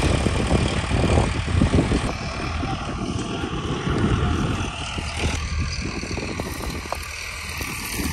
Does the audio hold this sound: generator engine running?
yes